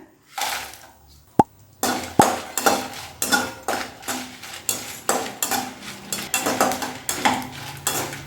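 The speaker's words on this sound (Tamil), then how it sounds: "இப்போ வரமிளகாய் சேர்த்துக்கிறேன்." Dry red chillies being roasted without oil in a kadai for idli sambar podi, with a steady run of sharp metallic scrapes and clinks of a spatula against the pan, close and fairly loud, no talking.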